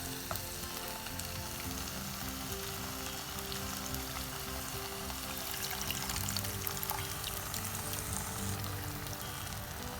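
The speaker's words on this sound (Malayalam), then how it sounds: "ഇപ്പോൾ നമ്മൾ നേരത്തെ പുളിയിലെ വെള്ളം ഒഴിച്ച് വെച്ച് കുതിർത്തി വെച്ചിട്ടുണ്ടായിരുന്നു. അപ്പോൾ അത് നമുക്ക് പിഴിഞ്ഞ് ഒഴിച്ചു കൊടുക്കാം." Soaked tamarind water squeezed and poured into a curry-leaf kuzhambu cooking on high flame, giving a steady, loud, even sizzle that hardly changes, with no talking.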